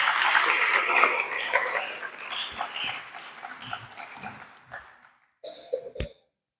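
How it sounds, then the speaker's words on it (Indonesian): Applause for students from SMA N 7 Manado at the closing of an Islamic school retreat, loud at first, then thinning into scattered claps and fading out, with a couple of sharp knocks near the end. "Tepuk tangan dulu buat siswa-siswi SMA 7."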